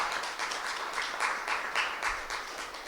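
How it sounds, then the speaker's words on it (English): An audience at a national summit on the housing affordability crisis applauds its staff with a steady patter of clapping at moderate volume, and a few faint voices mix in. "give a round of applause to my staff"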